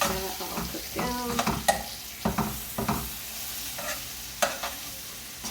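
Bulgur, leftover vegetables and pre-cooked shrimp sizzle in a pan for a stir fry, a soft steady frying hiss broken by repeated scraping and clacking of a utensil stirring.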